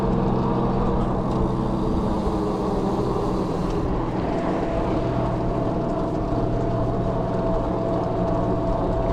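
Riding a QuietKat Apex electric hunting fat bike uphill produces a steady, close rush of wind and rolling noise, joined midway by a thin motor whine. No one speaks.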